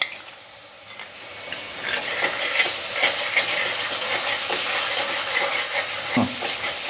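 Garlic-ginger paste hitting hot oil with onion paste in a home-kitchen pan, giving a soft continuous sizzle with scattered crackles and a few stirring scrapes, moderately close and without speech.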